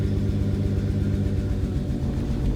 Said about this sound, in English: when it's grinding, the car is going forward even if I press the clutch all the way down